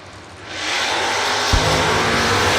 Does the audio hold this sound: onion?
no